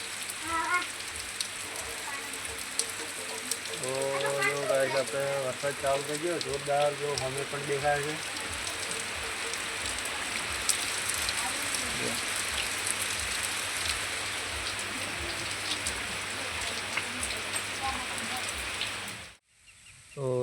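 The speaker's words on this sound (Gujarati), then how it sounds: "એકદમ વરસાદનો જો માહોલ ઘમઘોર થઈ ગયું છે બધું" Heavy unseasonal rain pours down steadily near a groundnut field, a dense continuous hiss of drops on surfaces lasting throughout, with a brief patch of harmonic calls or voices early on and a sudden cutoff near the end.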